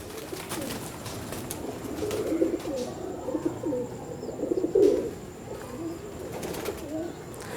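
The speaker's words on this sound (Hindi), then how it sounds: "ये है मेरे संदूरी पलक वाले कमगर कबूतर" A red-eyed Kamgar pigeon coos in soft, low, rolling phrases, with a louder burst near the middle. The sound is close but fairly quiet, with no talking.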